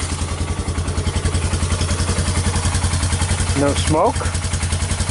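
A Bear Tracker 250 ATV engine fitted with a PZ30 carburetor idles steadily with an even, low, throbbing pulse, while someone talks briefly over it near the end.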